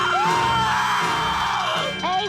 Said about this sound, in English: what's all the screaming up there?